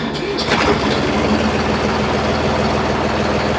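A Deutz Fahr 55 HP tractor engine cranks and catches, settling into a loud, low rumbling idle close by, with a voice briefly audible over it.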